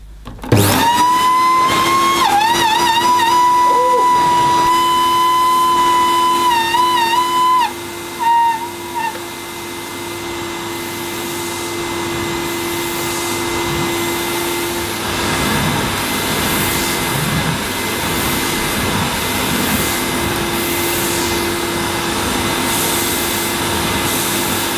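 A Hoover SC086 Maestro bagged cylinder vacuum cleaner starts up and runs continuously, its motor giving off a high, shrill screaming whine that wavers early on, then settles into a steady roar.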